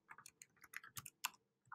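Quick clicking keystrokes on a computer keyboard as a web domain is typed in, a short irregular burst of close, crisp taps with brief pauses between them.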